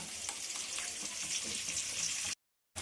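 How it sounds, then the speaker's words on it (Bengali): Pieces of rohu fish fry in hot oil with a steady, dense sizzle that stays loud and close for over two seconds before cutting out abruptly. "আমার মাছগুলো খুব ভালোভাবে ভাজা হয়ে গেছে"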